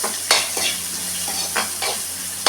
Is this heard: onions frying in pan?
yes